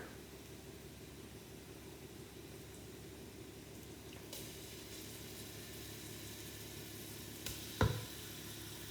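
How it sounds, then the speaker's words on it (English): Onions frying in a pan as garlic is added, with a soft, steady sizzle throughout and a short clatter of a utensil near the end, fairly quiet overall. "our onions have become somewhat brown, not much. I don't want them to be completely brown. And now it is the time to add garlic."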